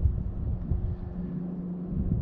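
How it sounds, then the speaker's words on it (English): Wind gusts outdoors at a stage station ruins on reservation land, a steady low rumble buffeting the microphone throughout with no talk. "Can you tell it's windy out here?"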